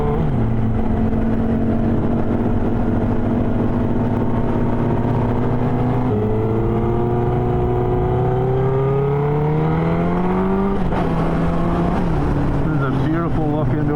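A motorcycle scrubbing in a new back tire on a hillside, its engine droning steadily and rising in pitch as it revs and accelerates, loud and close throughout.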